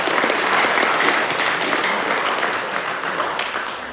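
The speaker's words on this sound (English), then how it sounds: "If you could give them all just one big round of applause." An audience at a school leadership speech event claps in a dense, loud round of applause that eases slightly toward the end.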